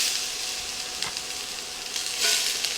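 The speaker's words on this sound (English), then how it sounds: "peppers into our hot skillet" Sliced peppers sizzle in a hot skillet for chicken fajita quesadillas, a steady close frying hiss with a couple of louder bursts as they hit the pan and shift, no voices.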